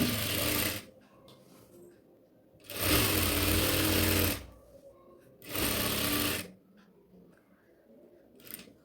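A sewing machine stitches cloth for a kitchen apron made from an old nighty, sewn half an inch from the lower edge: three loud close bursts of rapid whirring, each a second or two long, separated by quiet pauses.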